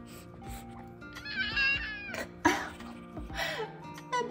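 An F2 Savannah cat gives several plaintive, rising meows in close succession, fairly quiet but clear against a calm indoor background.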